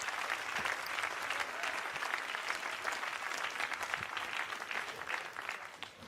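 Sustained applause from an audience at a French-language sermon on living waters, dense steady clapping throughout at moderate distance, with no voices over it.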